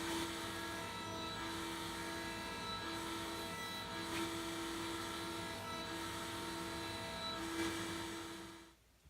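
A drill bores a large hole into a wooden bed riser with a sustained whirring grind that holds steady for several seconds, close and fairly loud, then winds down and stops.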